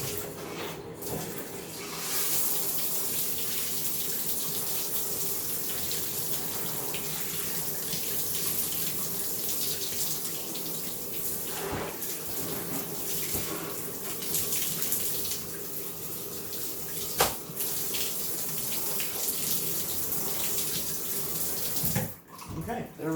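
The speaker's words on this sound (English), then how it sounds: "we're going to just use our shower head and get the rest of the stuff out of the tub" Water from a handheld shower head streams steadily into a bathtub, rinsing out debris left from cleaning a Bissell PowerForce Compact vacuum's filter and cyclone assembly, a continuous splashing rush with a few brief knocks and shifts.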